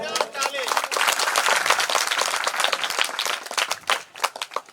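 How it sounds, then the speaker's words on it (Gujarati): An audience claps and applauds continuously to welcome speakers at a public district panchayat meeting, a dense, steady crowd applause that thins into scattered claps near the end. "આપણે સૌ તાળીઓથી વધાવીશું."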